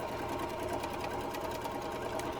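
A sewing machine stitches a quilt seam in a steady, fast mechanical whir with rapid needle clatter, continuous and moderately close, with no voices.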